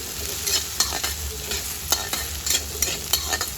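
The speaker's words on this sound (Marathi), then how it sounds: "टॅमॅटो पण आपल्याला व्यवस्थित त्या कांद्यामध्ये परतवून घ्यायचा आहे" Chopped tomato sautéed with onion in a hot pan, stirred briskly: rhythmic spatula scrapes and clacks over a continuous close sizzle, about a stroke every half second.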